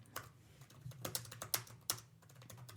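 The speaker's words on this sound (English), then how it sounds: "Dead air. Typing sounds." Quiet keyboard typing, irregular clusters of sharp key clicks over a faint low hum, with no talking.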